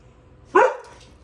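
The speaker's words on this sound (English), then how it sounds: "And there goes my dog." A single short, sharp bark from a dog nearby in a home kitchen, loud and sudden against a quiet background.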